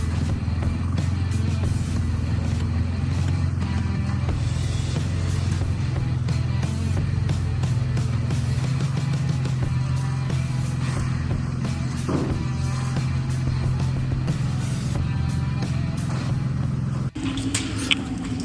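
A BMW M4 Competition engine idles and runs with a damaged, faulty exhaust, a loud close rumbling drone with a rough, raspy edge that holds steady before a sudden change near the end; no one speaks.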